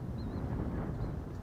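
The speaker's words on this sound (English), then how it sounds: "that wind is playing a factor, we could hear it there behind you" Strong wind buffets a microphone at a golf course, a loud continuous low rumble with faint high whistles drifting over it.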